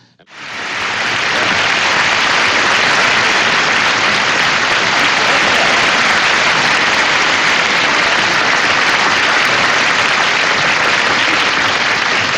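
A studio audience at a telethon breaks into steady, loud applause, a thick wash of clapping that swells within the first second and holds evenly to the end.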